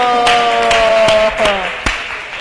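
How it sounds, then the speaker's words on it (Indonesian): Hands clap at a church song-leader training session. The claps are few and sharp, spaced about half a second apart, and fall over a sustained sung tone in a room. "Tepuk tangan dulu"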